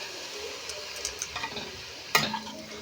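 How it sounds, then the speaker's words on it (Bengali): Spinach fries in a pan with salt and turmeric, a low even sizzle with soft crackles and one sharp utensil knock against the pan near the end, no talking. "পালং শাকটা দিয়ে কিছুক্ষণ এটা ভাজবো।"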